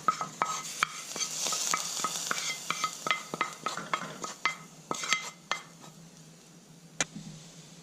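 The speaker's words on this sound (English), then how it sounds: "When the onions turn brown, the tadka or bhaghad is done. Now you just layer it over the dal." Hot onion tadka poured over moong dal, sizzling and crackling steadily with a run of sharp pops and spoon clinks against the pan, close and fairly loud, with no talking.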